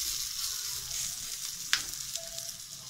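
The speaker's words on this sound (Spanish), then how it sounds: "Y mientras esta se nos cuece ahí, se nos cocina" A lentil patty fries in hot olive oil, a steady close sizzle with a brief sharper crackle partway through and no voices.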